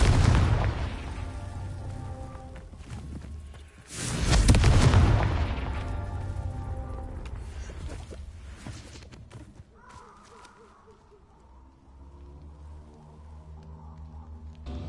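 In Hogwarts Legacy, a Confringo blasting spell explodes with a loud, deep boom that rumbles for a couple of seconds, then a second blast follows before the rumble fades into quieter game ambience and music.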